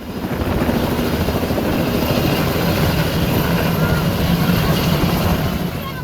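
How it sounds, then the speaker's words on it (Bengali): A helicopter carrying a groom and relatives to a wedding in Kishoreganj roars loudly and steadily, its rotor thumping continuously close by throughout. "বর ও তার কয়েকজন স্বজনকে নিয়ে বিয়ে বাড়ির উদ্দেশ্যে উড়াল দেয় সেই হেলিকপ্টার।"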